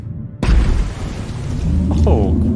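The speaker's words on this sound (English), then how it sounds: "That was quite the explosion." A placed charge detonates in the Forgotten Sanctum DLC, a sudden loud boom after near silence that rolls into a sustained low rumble, with a person talking over the tail.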